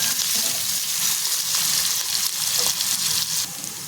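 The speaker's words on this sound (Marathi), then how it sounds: "एक मोठा कांदा मी चिरून घेतलेला आहे ते छान परतून घेणार आहे" Chopped onion with crushed garlic and green chillies frying in a pan gives a loud, steady hiss of sizzling oil that stays dense throughout and eases slightly near the end.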